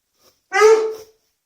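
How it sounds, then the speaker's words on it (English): A distressed old dog lets out one strained, whining bark, close and fairly loud, in an otherwise quiet room. "He's only barking now because he's distressed"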